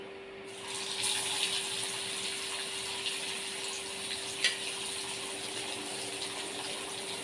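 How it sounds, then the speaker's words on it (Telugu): Koramenu fish pieces frying in hot oil give a steady, close sizzle that starts within the first second and continues evenly, with no talking. "ఇప్పుడు మనం ఫిష్ పీసెస్ వేసుకోవాలండి ఫ్రై చేయడానికి."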